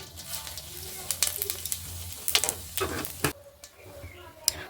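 Dried red chilli, bay leaf and cumin seeds sizzle in hot oil for a potato curry. The crackle is irregular, with bursts and pops, loud at first and then quieter.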